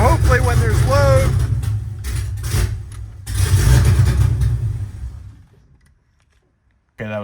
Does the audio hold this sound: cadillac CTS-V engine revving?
yes